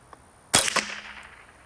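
A single sharp crack from a .22 rifle firing Remington Target grade 40-grain standard velocity ammunition, close and alone, with a brief ringing tail.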